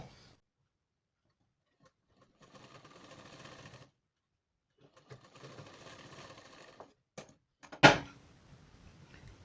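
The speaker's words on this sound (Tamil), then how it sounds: "இப்போ இதை நான் வந்து தையல் போட்டு திருப்பி காட்டுறேன் பாருங்கள்" A sewing machine stitches a design blouse in two steady bursts of a few seconds each, separated by a pause, followed by a sharp knock-like thud near the end.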